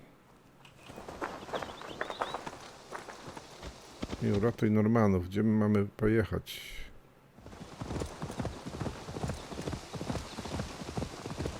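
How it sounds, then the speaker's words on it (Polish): Horse hooves from Assassin's Creed Valhalla on PC beat a steady, close clip-clop rhythm throughout, under someone talking and a brief loud burst of in-game voice partway through. "Bierzemy konia."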